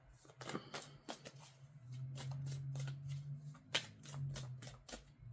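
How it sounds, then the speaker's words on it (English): A double-sided self-care card deck is shuffled by hand in a series of soft papery riffles and slaps, close and quiet, with a low hum underneath and no speech. "It's double-sided, so I'm just going to shuffle with my eyes shut."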